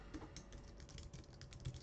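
Quiet, rapid keystrokes on a computer keyboard, a steady patter of light clicks heard alone at close range.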